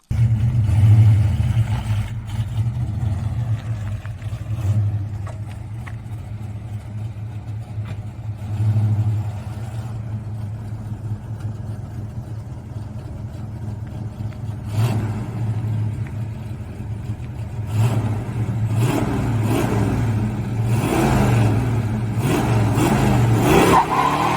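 A rusty 1962 Dodge Dart with a 440 V8 and four-speed rumbles nearby, revving in bursts before pulling away, the engine note growing louder and rougher toward the end.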